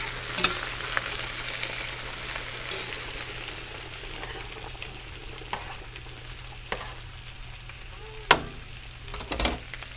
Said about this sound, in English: We got nice hot grease, so you want to get that nice sear going on.